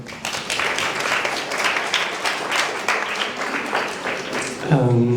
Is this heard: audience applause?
yes